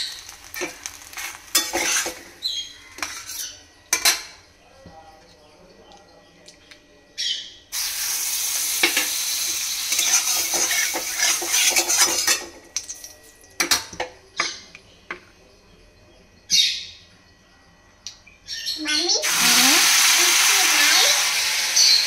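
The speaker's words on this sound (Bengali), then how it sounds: "ওর জন্য এরকম প্যানকেক বানাতে হয়।" Pancake batter of rice flour and a little wheat flour fries in a pan, with bursts of loud sizzling broken by pauses and clattering, scraping stirring sounds from a utensil.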